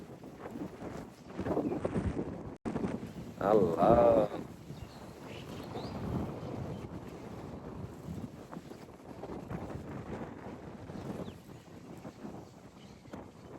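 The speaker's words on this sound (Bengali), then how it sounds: "দেখেন কি প্রচন্ড বাতাস" Strong wind buffets the microphone in heavy rumbling gusts, while a person talks and exclaims over the roar.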